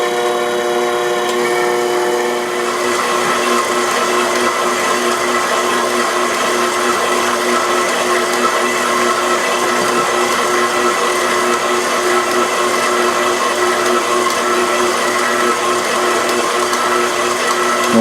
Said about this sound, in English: This is about halfway through the kneading process.